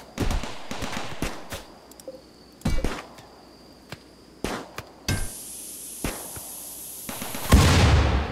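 Scattered gunshots in the colony-sim game Rimworld ring out as sharp, separate cracks in short bursts, ending in a rising high whine and a heavier impact.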